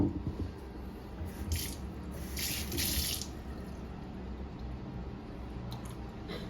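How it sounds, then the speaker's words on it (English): Baby potatoes rinsed under a running kitchen tap, a steady close rush of water with brief splashy bursts as the potatoes are moved through the stream. "So now we're gonna wash the baby potatoes so that we can take out all the dirt inside"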